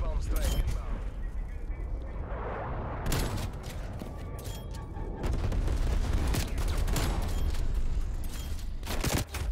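Shotgun blasts from a Dark Matter double-shotgun setup in the video game Black Ops Cold War, a loud burst of gunfire with booming shots and weapon mechanisms, with talk and laughter over the action.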